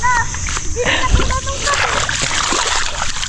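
Water splashing and sloshing close by at the seaside, with a voice and other talk mixed in over steady background noise.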